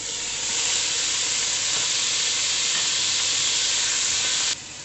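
A loud, steady sizzle of crushed onion frying in hot oil, hissing continuously before dropping off sharply near the end.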